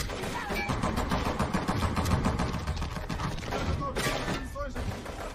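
Rebel gunfire strikes a train in a civil war attack, with dense, rapid cracks and thumps sounding continuously at moderate volume and mixed with mechanical rattling and brief higher-pitched tones.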